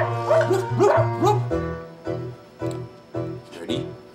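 A dog gives three quick, rising, tonal barks up close, followed by a run of softer, lower yips spaced at a steady rhythm.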